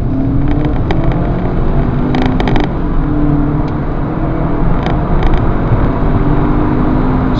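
A 2011 Mercedes Kompressor accelerates hard from a standstill in a 0 to 60 run, its supercharged engine roaring loudly and steadily from inside the cabin, with faint creaks and rattles over the continuous drone.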